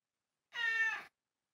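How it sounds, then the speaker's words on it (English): A single drawn-out house cat meow, clear and fairly close, about half a second long and standing alone against silence. "that's my cat"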